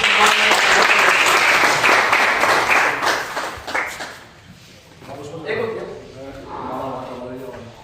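Audience applause rings out at a candle-lighting tribute to martyrs, a dense clapping burst that fades after a few seconds as voices and movement take over.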